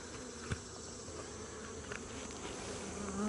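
Honeybees in an open queen castle hive hum steadily and softly throughout, a continuous close insect drone with a couple of faint knocks from hive handling.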